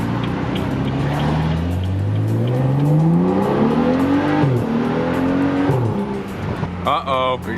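A BMW F30 car accelerates, its engine note climbing steadily in pitch through the gears as it pulls away, loud and close from inside, with a brief squeal and talking near the end.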